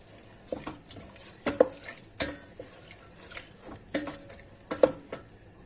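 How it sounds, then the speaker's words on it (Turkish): Peppers sauté in a pan while a utensil stirs and scrapes at uneven intervals. The clacks and scrapes sit over a faint background sizzle, with no talking. "Biberlerimizin rengi değişene kadar yaklaşık 5 dakika kavuracağız."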